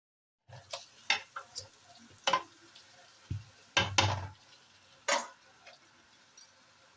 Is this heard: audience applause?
no